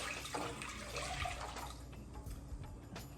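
Seafood stock poured into a saucepan on high heat gives a continuous gurgling splash that tapers toward a lighter trickle, close and moderately quiet.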